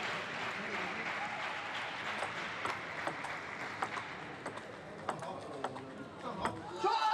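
Spectators at a Tokyo 2020 Paralympic table tennis quarterfinal clap steadily as a crowd, a continuous wash of applause with a few sharper claps standing out, under a commentator's voice.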